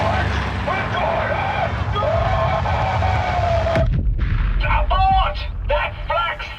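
Anti-aircraft flak fire in the Sniper Elite Resistance video game: a dense, rumbling barrage under a droning engine, then a sharp burst followed by crackling blasts. Voices come through faintly in the mix.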